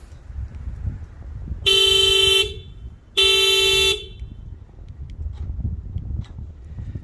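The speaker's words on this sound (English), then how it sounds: "this is what the Type R horn sounds like" A 10th-generation Honda Civic Type R horn sounds twice, each a steady bright blast of under a second, with a short gap between, over faint outdoor background noise.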